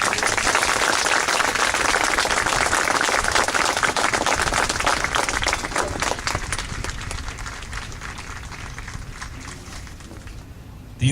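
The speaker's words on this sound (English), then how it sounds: "Please give the honor graduates a round of applause." Audience at an Army airborne graduation ceremony applauding the honor graduates, a dense, loud round of clapping that gradually thins and fades toward the end.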